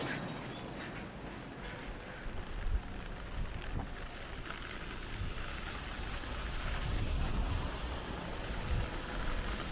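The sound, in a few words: light drizzle of rain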